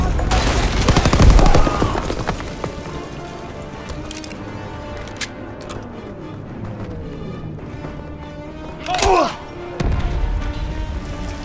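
Grenade blast and rifle fire in the Call of Duty WWII Rhine mission, with a heavy boom early on, scattered shots and a second burst near the end, mixed with game effects and a voice talking.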